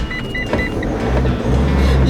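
A camper van's engine starts up close by, a short whirring crank that settles into a low, steady idling rumble.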